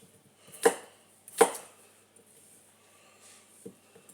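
A knife cuts potatoes in half on a board: two sharp, close chops about a second apart, then a fainter third tap, in an otherwise quiet kitchen.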